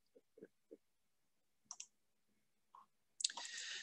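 A computer mouse clicks on a web page button during an online job application, giving a few sparse, crisp clicks spaced apart in a quiet room, followed by a brief burst of louder noise at the end.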